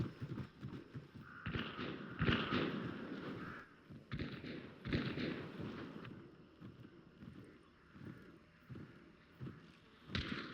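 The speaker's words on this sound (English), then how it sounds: "I'm not sure where any of that shooting is coming from" Scattered gunshots in the video game Hunt: Showdown 1896, set in a bayou: several sharp, booming cracks at irregular intervals, sounding somewhat distant, separated by quieter ambient rumble.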